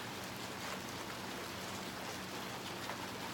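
Steady rain of large drops falling on surfaces outdoors on a cold day, a dense continuous patter close by with no talking.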